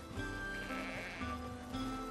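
Black sheep in the video game Foundation bleat in a short, soft, wavering call over a steady ambient game soundtrack, with no talking.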